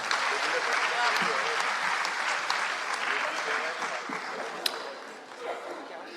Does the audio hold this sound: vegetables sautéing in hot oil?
no